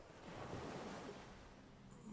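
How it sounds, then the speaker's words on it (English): Continuous ocean waves and surf wash broadly through a video game scene, a steady, moderately loud roar with a windy hiss and no voices. "Those ocean waves?"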